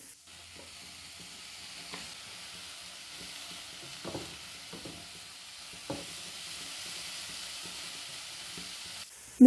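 Vegetable stuffing with spices, chili, salt and soy sauce fries in a pan with a steady close sizzle, broken by a few scraping stirs, and no voices.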